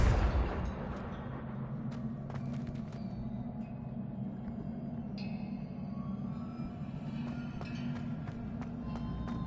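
Fiery Confringo blast spell cast in a Hogwarts video game, an initial loud burst followed by a sustained rumbling roar with scattered crackles and debris-like ticks fading slowly.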